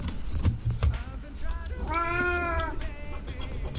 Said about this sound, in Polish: Oczywiście mój kot się musi tutaj kręcić.